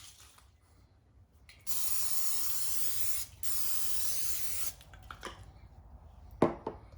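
Two long bursts of olive oil cooking spray hiss into a pan, close and steady, separated by a short pause, followed by faint clicks and light handling noises.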